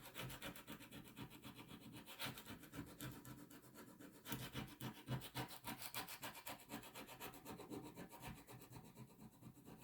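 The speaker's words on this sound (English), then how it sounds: "Just scrape it." Scraper dragged repeatedly across a reusable Chalk Couture coaster to lift off ink, giving a close, gritty rasping scrape in rapid back-and-forth strokes that continues steadily throughout, no talking.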